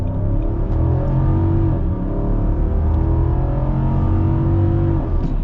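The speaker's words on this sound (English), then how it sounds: "So let's start off here in the Armada with an acceleration" A 2022 Nissan Armada Midnight Edition's V8 pulls hard under full-throttle acceleration inside the full-size SUV, a deep, steady rumble that stays loud and continuous throughout.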